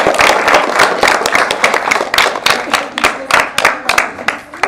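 A school audience at an author visit claps in a dense burst of applause that thins toward the end into scattered, separate claps.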